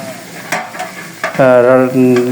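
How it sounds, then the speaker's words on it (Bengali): Someone stirs a big cooking pot of biryani or khichuri with scraping, clattering strokes, and a loud sizzle rises partway through as the ingredients fry. "এভাবে ডিক্সাতে লাড়ছে আমার বড় ভাই হায়দার আলিম"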